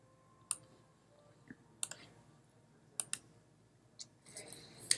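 Computer mouse button clicked a few times at a desk, sharp isolated clicks spaced about a second apart, close and quiet, with a faint soft rustle near the end.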